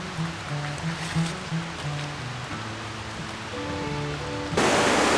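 Loud spring-runoff creek rushing steadily and close, a broadband water roar with faint tonal hum mixed in, swelling louder near the end.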